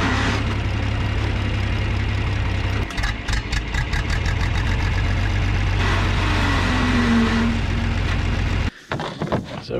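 A 1967 John Deere 4010 tractor running on propane after sitting for years, its engine idling loud and steady with a lumpy low rumble, briefly changing pitch partway through before cutting off abruptly near the end.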